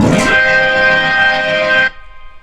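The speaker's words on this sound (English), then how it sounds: "that's going to give me my B3 Growl." A loud, distorted Hammond B3 organ sweeps upward in a rapid key glissando, then holds a gritty, growling chord for nearly two seconds before cutting off abruptly.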